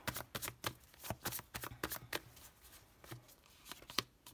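Tarot cards are drawn and laid down on a spread, heard as a quick close series of soft papery flicks and slaps, repeated in an uneven rhythm at low volume.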